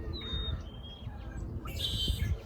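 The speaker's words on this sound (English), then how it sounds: "That red-winged blackbird." A red-winged blackbird sings outdoors on an early March morning in Vancouver, giving a few short whistled calls and a brief burst of trilling, faint and somewhat distant over low background rumble.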